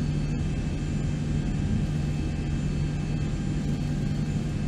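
Steady engine roar from a Boeing 737-800 in X-Plane 11, a continuous loud low rumble and whine with a constant tone, unchanging throughout.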